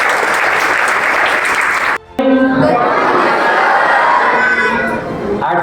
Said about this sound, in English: I request every one of you, please give a round of applause.